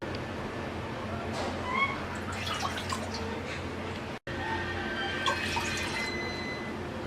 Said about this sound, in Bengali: এবার আমরা চুলায় একটা হাঁড়িতে দিয়ে দিচ্ছি 2 কাপ পানি।